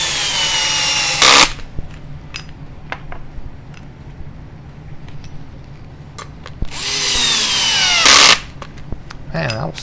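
A power drill driving screws into a Tekno NB48 2.1 RC car during assembly, two short high whirring bursts several seconds apart, with clicking handling noises and quiet movement between them.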